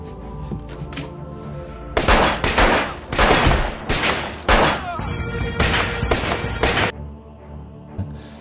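Loud bursts of rapid gunfire ring out in a darkened room during a gang shootout, several clustered volleys of sharp shots separated by short pauses over a low rumbling background.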